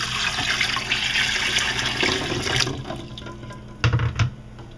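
Tub of water poured over boiled eggs to cool them, a steady splashing gush that fades, followed by a couple of brief sloshes near the end, close and without talk.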